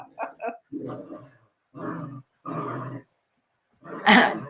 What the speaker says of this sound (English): I'm so glad your dog is barking.